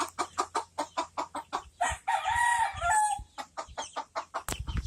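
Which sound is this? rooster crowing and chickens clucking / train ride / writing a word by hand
rooster crowing and chickens clucking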